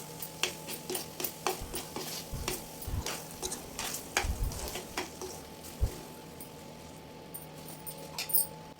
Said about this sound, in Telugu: చివరగా ఒక టేబుల్ స్పూన్ గీ వేసుకుందాం వేపేసుకుని కలుపుకుని తిప్పేసుకోవటమేనండి